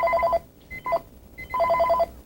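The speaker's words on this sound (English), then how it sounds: "you can buzz and use it as an intercom" A cordless phone's intercom buzzes in short electronic trilled bursts, one rapid warbling pulse, a brief single beep, then another trilled burst, heard close and clean with light room noise.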